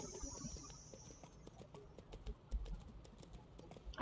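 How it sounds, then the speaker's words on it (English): Hoofbeats of a regular horse mount in EverQuest II patter in quick light clip-clops, faint and close, along with a brief whistling tone at the start and no speech. "I get a green saddle and a regular horse."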